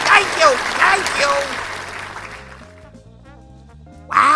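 A large crowd at a comedy stage show claps and cheers loudly at first, the applause thinning out before a burst of noise at the end.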